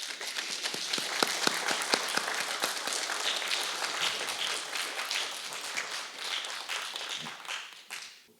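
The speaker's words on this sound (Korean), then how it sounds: "격려의 박수 보내주시면 좋겠습니다." Audience applause at a Catholic peace forum on the Korean peninsula, with sharp distinct claps early that build into sustained dense clapping from a crowd across the room, fading out near the end.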